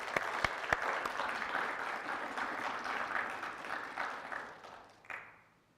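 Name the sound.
audience applause at a conference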